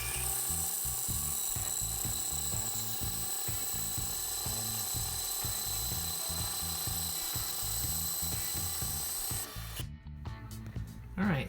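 Bandsaw slicing through wooden planks, a loud, close, continuous whine with a pulsing low rumble as the wood feeds through, cutting off near the end into quieter handling noises; a voice is present at moments.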